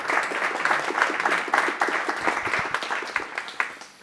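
Applause from an audience, a dense patter of many hands clapping at moderate volume for several seconds, with no voices over it.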